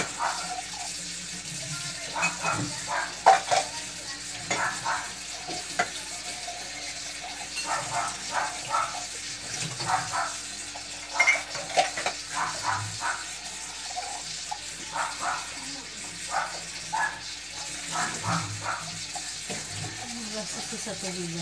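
Tap water runs in uneven splashing bursts into a sink while dishes are washed, with clinks and scrubbing scattered throughout; a dog and people are briefly audible in the background.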